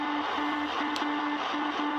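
Steady shortwave radio jamming buzz from Cuba heard on a Sangean ATS-909X2 receiver with a loop antenna, a continuous droning hum over dense hiss, loud and unbroken throughout.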